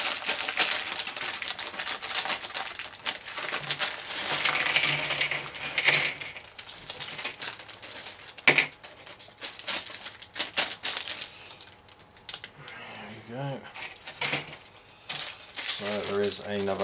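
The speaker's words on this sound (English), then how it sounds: "just going to unbag this so that we can have a quick look at the instructions" The plastic polybag of LEGO Thanksgiving Feast set 40056 crinkles and rustles as it is opened. The sound is close and comes in irregular bursts with small clicks of loose pieces.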